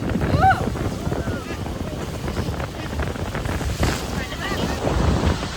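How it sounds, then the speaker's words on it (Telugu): Strong wind buffets the microphone at Niagara Falls aboard a Maid of the Mist boat, a loud, gusty roar with the rush of water beneath and faint voices mixed in. "ఓ గాలి చాలా ఎక్కువ ఉంది."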